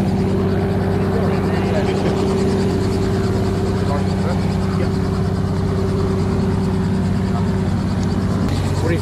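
A constant low rotor drone with a steady mechanical hum fills the whole stretch, loud and close, with a voice talking over it.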